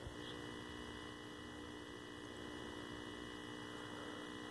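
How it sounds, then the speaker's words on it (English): Steady, quiet high-voltage hum and whine from a 1974 Zenith 17-inch Chromacolor II color television as it powers on after servicing, a constant even drone with no talking. "I hear high voltage. This is a good thing."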